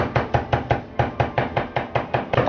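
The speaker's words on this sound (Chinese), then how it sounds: "用刀撇破，剁成姜末" A cleaver chops fresh ginger into fine mince on a board, steady evenly spaced thuds about every quarter second, close and loud with no voices.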